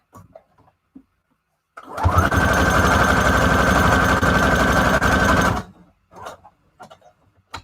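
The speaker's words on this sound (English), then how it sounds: "we're gonna sew down the middle" A sewing machine stitching down the middle of fabric scraps, a close, loud, rapid mechanical chatter running steadily for about four seconds, framed by quiet handling noises before and after.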